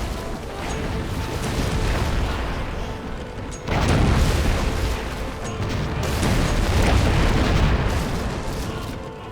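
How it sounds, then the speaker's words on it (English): Enemy cannon fire strikes the player's ship in Anno 1404, a series of heavy booms and rumbling impacts that swell and fade over a continuous loud battle din. "Your ship is the target of enemy fire."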